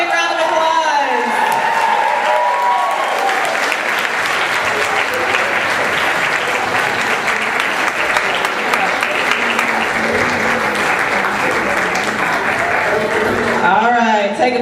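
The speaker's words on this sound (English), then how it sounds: "Let's give them one more big round of applause." A theatre audience gives sustained, dense applause to the directors after an evening of student ten-minute plays, steady clapping filling the room with a few cheers and a voice near the end.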